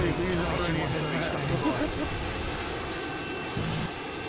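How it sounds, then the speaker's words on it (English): Aircraft engine drone from a UAV deployed in a first-person shooter video game: a steady, loud whining roar lasting a few seconds, with a voice talking over it. "I'm going to throw up another UAV. UAV online."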